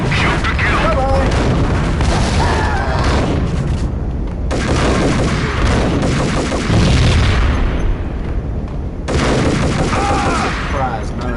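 A grenade blast and heavy gunfire from the Max Payne game come as dense, loud, continuous bursts and booms, with a voice talking over parts of the barrage.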